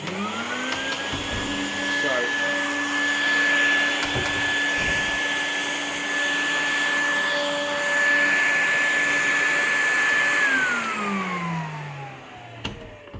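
A Henry hoover vacuum cleaner runs close up with a steady high motor whine, rising in pitch and then winding down near the end, with brief knocks as it is handled.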